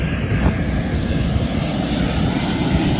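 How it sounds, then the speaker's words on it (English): Airplane flying overhead, a steady, loud, broad engine roar that holds constant for the whole stretch, with no talk over it. "That's a nice plane"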